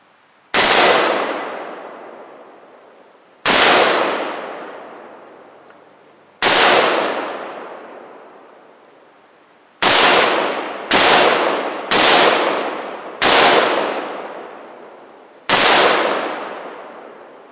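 Riley Defense RAK47C rifle firing Silver Bear steel-case, zinc-plated ammunition: eight loud, sharp shots with ringing decay, first spaced about three seconds apart, then a quicker cluster, with no talking.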